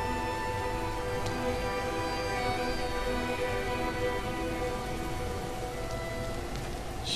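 Steady rain falls over a town in the video game rain, a dense, unbroken hiss of drops that holds evenly at a fairly loud level throughout, with no voices over it.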